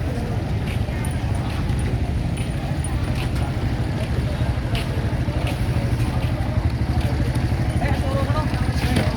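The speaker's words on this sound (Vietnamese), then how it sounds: "Nó nửa giống như chiếc xe lam của mình, nhưng mà một nửa thì nó lại giống như là cái xe túc túc" A motorcycle-powered tuk-tuk in Boracay putters along close by, its engine a steady rough drone with rhythmic chugging and light rattles throughout.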